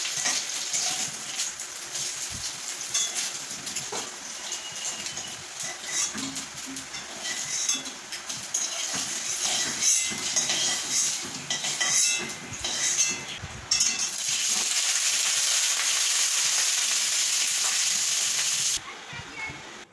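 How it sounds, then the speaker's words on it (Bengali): Paneer frying in oil in a wok, a loud continuous hiss and sizzle with scattered clinks of a metal spatula, close by, with faint background voices at times. "অল্প কিছুটা পনির দিয়ে ভেজে নিচ্ছি"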